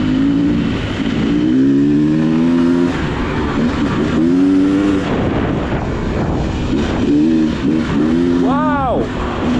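A 2024 Beta XTrainer dirt bike engine revs hard while being ridden, loud and close with steady wind buffeting, the pitch repeatedly climbing and dropping through gear changes and a sharp rev near the end; a rider's voice is faintly mixed in.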